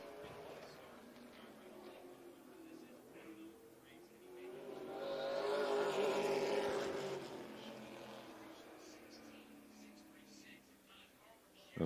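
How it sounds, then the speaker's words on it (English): Super late model race cars run practice laps at Hickory, engines droning at a distance and swelling louder midway as a car passes closer, then fading back under a steady track roar. "And Troy Patterson, he has put a lot of laps down here the last few days in that 5 car."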